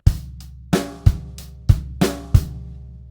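Rock drum kit groove, bar 9, with steady kick and snare hits in an even four-count pattern, played alone and close.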